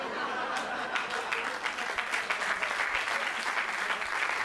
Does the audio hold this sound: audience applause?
yes